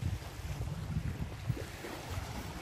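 Waves wash over a beach of sand and fine pebbles on a warm seashore with palm trees, a steady low rumbling surf mixed with wind buffeting the microphone and no voices.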